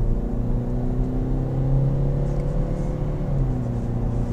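A 2019 Ford Focus ST Line accelerating hard, its engine droning in a steady interior hum that rises in pitch with a brief dip as the gearbox shifts, with no talk.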